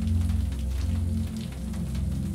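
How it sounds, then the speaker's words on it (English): Steady rain and the even white-noise hum of a tumble dryer in a cozy Manhattan launderette, a dense continuous wash with a low rumble underneath. "The somnolent sounds of rain and the white noise of the dryer carry on."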